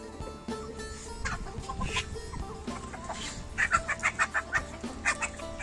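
Chickens cluck and roosters call nearby in a garden, with rapid clucking bursts toward the end over faint background noise.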